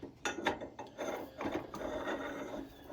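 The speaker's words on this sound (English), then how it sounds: "we're just going to put the tooling arm into the receiver with our piece that we welded on to the right" A metal tooling arm slides and clunks into the receiver of a home-built 2x72 belt grinder, with a few rattling knocks and grinding scrapes up close, no talking.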